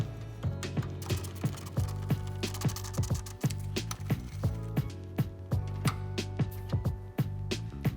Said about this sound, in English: Reinstall your 2 10mm bolts to secure the headlight.